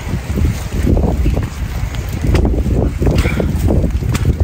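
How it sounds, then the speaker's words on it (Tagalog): Strong, gusty wind roars and buffets the microphone continuously on a foggy mountain trail, loud and rough throughout with no voices. "Tapos malakas ang hangin, foggy."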